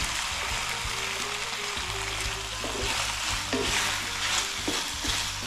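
Pepper steak stir-fried in a hot pan gives a steady, close crackling sizzle that runs unbroken, with occasional clatters from stirring and no voices.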